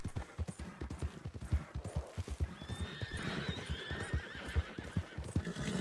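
Wild horses in Red Dead Redemption 2 give a loud, drawn-out whinny over a steady beat of hooves clopping nearby, the neigh rising midway and trailing off as the hoofbeats continue.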